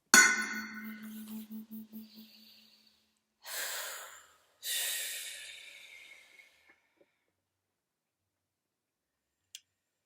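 People take slow, deep breaths in quiet, a few drawn-out inhales and exhales spaced apart, with a faint click near the end.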